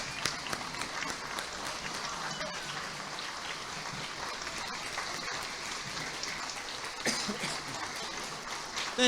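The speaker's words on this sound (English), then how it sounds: "How about a big, big round of applause for the main man tonight, Father Gary Goyeau." At a parish building's 25th anniversary celebration, a hall audience applauds Father Gary Goyeau with a dense, steady patter of clapping. The applause holds at an even level for about nine seconds.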